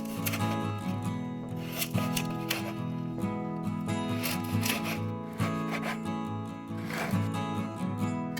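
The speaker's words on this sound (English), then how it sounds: "For the crostini, we're going to cut 1/2-inch thick slices at a bias." A knife saws through a loaf, cutting half-inch bias slices for crostini, giving repeated rasping strokes close by over steady background music.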